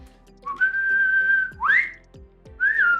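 A whistled opening motif from a stage musical's prologue, a long sustained high note followed by quick upward-swooping whistles, clear and close over a low sustained orchestral bed with soft rhythmic accents.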